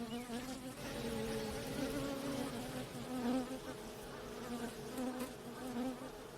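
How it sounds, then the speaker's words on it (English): Asian bees swarm over blossom in a mountain forest, a dense steady buzz of many wings, close and continuous, rising and falling slightly in pitch. "Asian bees are hardy enough to cope with the harsh mountainous habitat"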